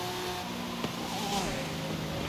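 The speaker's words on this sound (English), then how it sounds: "wow, this car's noisy" A steady car engine drone in the video game Forza Horizon 5 hums throughout, with a brief thump partway and a rising whine as the motor revs, no voices present.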